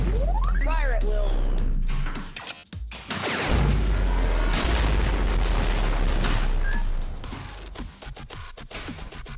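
Methane blaster fire on a Galactic Tank Force pinball machine: loud booming blasts and crashing bursts ring out over a steady machine soundtrack, with a spoken game callout at the start.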